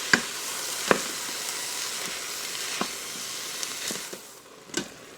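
Ground meat browns in an Instant Pot with a steady sizzle and frying hiss. A few sharp clicks and scrapes, like a utensil stirring against the pot, break in now and then, and no one speaks.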